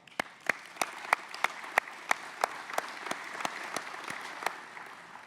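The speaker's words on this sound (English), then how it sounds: "I'd like to give you guys a round of applause." Applause from an audience at a regional chamber annual meeting, with sharp individual claps popping out above a softer bed of clapping in a loose rhythm. It stays moderately loud throughout and no one speaks.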